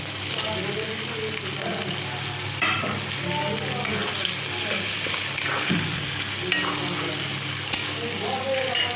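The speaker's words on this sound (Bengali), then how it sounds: "পেঁয়াজটা ভাজা ভাজা হয়ে গেছে" Onions frying in hot oil in a pan after whole spices (black pepper, cloves, cinnamon, cardamom) went in, for a mutton curry: a steady, loud sizzle with occasional stirring clatter and faint background voices.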